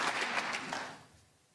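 Brief, faint applause from a snooker crowd at Northern Ireland Open 2017 after a century break, steady clapping that fades away within about a second.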